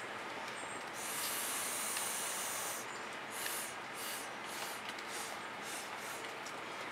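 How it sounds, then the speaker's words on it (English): A steady, close hiss of air blown over freshly poured fluid acrylic paint with Prussian blue and metallic colour, continuing for several seconds with slight swells in intensity. "I was going to blow directly on that Prussian blue"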